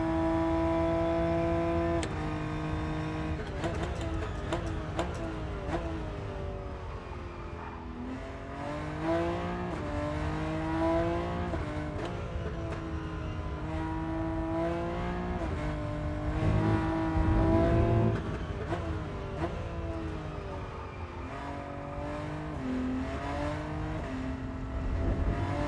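A race car engine in the Rennsport racing game, revving up through the gears with repeated upshifts and pitch drops, a steady loud whine throughout and occasional tire squeal, with no voice over it.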